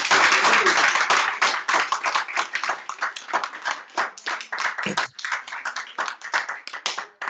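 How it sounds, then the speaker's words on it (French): A church congregation claps together in dense, continuous applause, loud and close, keeping up a steady flurry of hand claps with a few louder smacks for about seven seconds. "Applaudissez le Seigneur."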